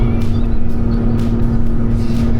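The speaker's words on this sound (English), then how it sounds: "Jason, how's it feel to drive across Montana in third gear?" Toyota Tacoma pickup cruising in third gear, a loud steady engine drone with constant road and wind noise from inside the cab, no talk.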